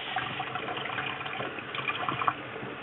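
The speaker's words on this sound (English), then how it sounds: "Let's rinse our pineapples like we're cleaning rice" Diced pineapple rinsed under running water, a steady close rush of tap water with small splashes and sloshing throughout, no voices.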